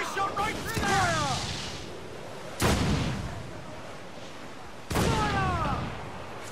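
Three heavy cannon blasts from a sailing warship in Assassin's Creed IV Black Flag boom out at steady intervals, each with a sharp crack and a long rumbling tail, over battle ambience with voices.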